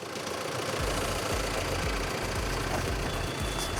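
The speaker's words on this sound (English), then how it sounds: "the diesel engine does sound slightly noisy on the outside" MG Hector diesel engine running, heard from outside the car with a steady, slightly clattery idle rumble that is close and continuous, with no voices.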